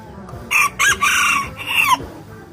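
Serama chickens crow and cluck in a run of short, loud bursts with brief gaps between them. No voices are heard.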